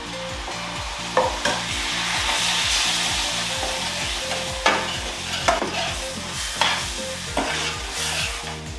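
Spices fry in a pan with curry base sauce, a steady loud sizzle with regular spatula strokes scraping across the pan, all under a low, steady hum.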